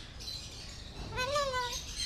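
A cockatoo at Subic Bay in the Philippines gives a short rising-and-falling squawk after a moment of quiet, close and fairly clear against faint background noise.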